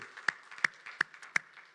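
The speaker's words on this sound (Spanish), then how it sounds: "Vamos a darle un fuerte aplauso al Señor" Churchgoers clap in unison in a church service, four sharp, evenly spaced claps in a steady rhythm, fairly close and crisp.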